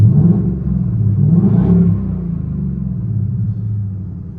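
A loud, deep supercharged V8 engine of a 2020 Ford Mustang Saleen 302 rumbles and revs up briefly, then settles back into a steady throaty idle, close by.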